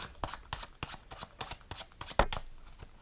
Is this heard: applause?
no